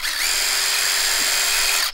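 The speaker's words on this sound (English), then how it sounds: "To drill each thing in" Cordless power drill driving screws into a backyard hockey rink frame, a steady, loud, close whine that runs for about two seconds and stops with no voices.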